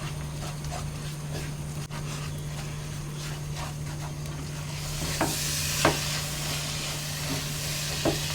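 Soya chunks stirred with coriander powder in hot oil in a pan, a steady low sizzle with a few sharp scrapes of the spoon near the end, no talking.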